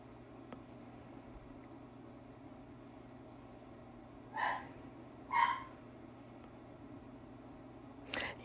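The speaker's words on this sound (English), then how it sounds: "You might hear my dogs." Dogs chewing bacon treats, with a few faint distant barks standing out over a quiet room hum.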